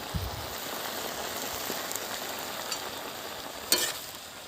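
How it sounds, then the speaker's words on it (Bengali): Constant crackling sizzle like light rain as fried prawns go into a hot pan, with a soft thump at the start and a brief clatter near the end, with no voices. "এর মধ্যে আমি দিয়ে দিচ্ছি চিংড়ি ভাজা"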